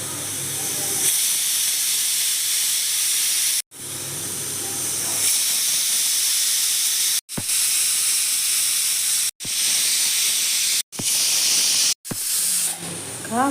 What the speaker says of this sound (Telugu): విజిల్ పెట్టేసి ఇప్పుడు 5 విజిల్ వచ్చినాక ఆపేద్దాం.